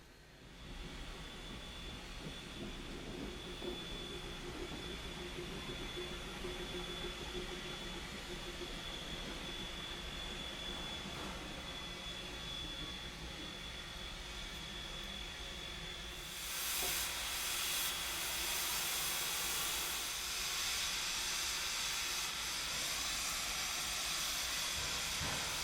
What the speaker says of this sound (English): the engines simmer on Sawmill siding as number 7 arrives to pick up its train